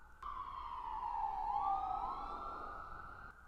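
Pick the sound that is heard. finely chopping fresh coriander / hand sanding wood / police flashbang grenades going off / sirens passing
sirens passing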